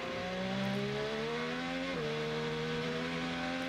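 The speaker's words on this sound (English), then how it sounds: "You hear that Will is not fully committed on the throttle when he starts to come through the turn." Will Power's Chevrolet IndyCar engine at the Honda Grand Prix of St Petersburg on partial throttle through a turn, a loud, steady high-pitched engine whine whose pitch climbs slowly, dips sharply once midway, then holds, with no talk.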